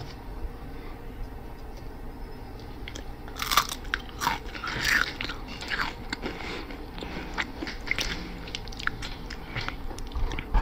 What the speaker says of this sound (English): Crackers be crunching